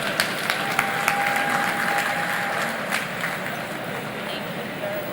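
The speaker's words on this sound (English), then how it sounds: "Please, a round of applause for Doyin Sola." Sustained applause from an entrepreneurship festival audience, steady clapping across the whole stretch with a busy, noisy room underneath.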